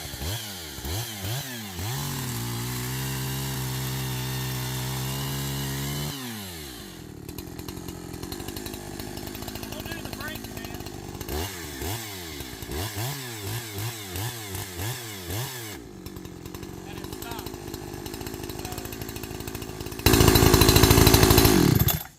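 A NEO-TEC NH872 gas chainsaw idles and revs loudly in repeated bursts, its engine pitch climbing and falling, then settles to a steady run before a final loud, harsh rev at the end.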